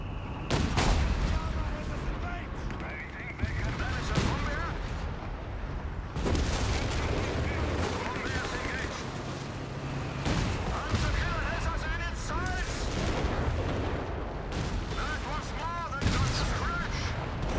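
A StuG assault gun fires repeatedly in the Company of Heroes 3 video game, heavy booms recurring every few seconds over constant battle noise, with a commentator talking throughout.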